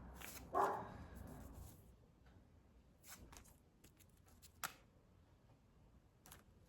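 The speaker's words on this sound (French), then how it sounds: "Je vous avais dit qu'ils allaient aboyer à un moment ou à un autre." Dogs barking indoors, a few short separate barks at moderate distance with quiet gaps between them, no talk over them.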